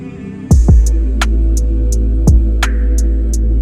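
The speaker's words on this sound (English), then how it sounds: "This is the beat we are going to mix and master today." An R&B trapsoul beat made in FL Studio plays on its own, with deep sustained sub-bass, punchy kicks and crisp hi-hat and snare hits in a slow, steady groove at close, loud level.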